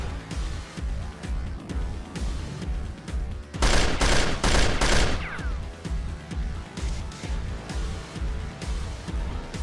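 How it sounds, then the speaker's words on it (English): A burst of rapid gunfire from rebels in a zombie apocalypse drama, several loud cracking shots in quick succession, over a pulsing rhythmic background that runs throughout. "He then reloads as the bullets continue to hit the police car and other objects"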